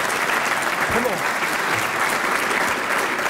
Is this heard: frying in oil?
no